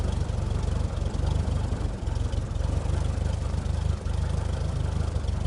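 Piston engine of an Echo Simulations F.8L Falco light aircraft idling in a flight simulator, a loud, low, rough throb with a steady rhythmic pulse, heard from the cockpit without talk.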